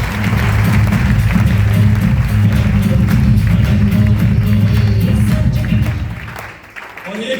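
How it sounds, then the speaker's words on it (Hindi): An indoor audience applauds two champions at a network marketing motivational event, a dense, steady wash of clapping that goes on for about six seconds, then fades as the room quiets. "एक बार ग्रेट क्लैप इन दोनों चैंपियन के लिए"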